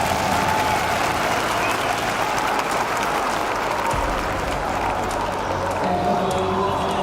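A crowd at a League of Legends esports playoff match in Paris cheers and applauds continuously, a dense, fairly distant roar with clapping that holds throughout, while a caster speaks over it.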